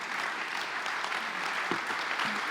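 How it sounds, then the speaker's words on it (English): Audience at a 2017 summit panel on digital transformation of informal education claps steadily and moderately loud throughout, a dense even patter with no voices over it. "Did somebody just clap for you?"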